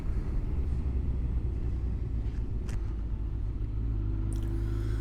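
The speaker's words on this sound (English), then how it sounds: "the bike just cruises along at lowish revs" Kawasaki GTR 1400 motorcycle cruising at low revs on the road, a deep, steady engine rumble mixed with wind and road noise, close and continuous with a few faint brief clicks.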